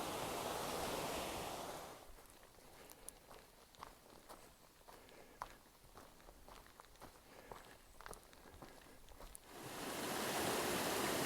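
Flowing creek water on the Pacific Crest Trail, a broad steady rush that swells loud at the start and end with soft footsteps and scuffs crossing in between.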